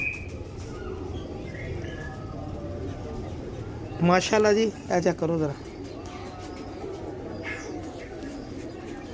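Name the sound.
domestic pigeons cooing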